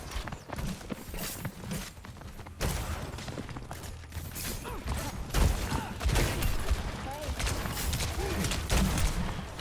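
Gunfire in an Overwatch team match, a dense, continuous clatter of shots and game effects layered over a busy mix, steady and loud throughout with no clear talk.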